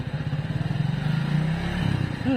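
A motorcycle engine revs up close in a steady, pulsing throb that rises in pitch toward the end, running alone without talk.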